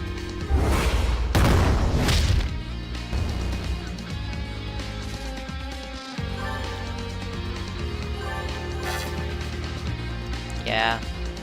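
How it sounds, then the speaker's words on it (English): A pipe bomb detonates in the video game Long Gone Days, giving a loud booming burst with a crash at the start, then fading into music and game sounds while a person talks over it. "Pipe bomb."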